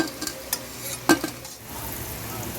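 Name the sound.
chana dal fritters frying in hot oil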